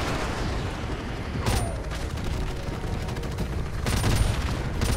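Automatic gunfire sprayed at targets in Call of Duty Modern Warfare Remastered, a continuous loud rattle of rapid shots with a couple of sharper bursts standing out.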